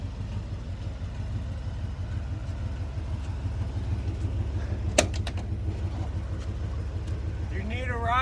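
A Ford F-150 truck engine idles steadily with a low, even rumble throughout, with a few brief clicks and a short rising whine near the end.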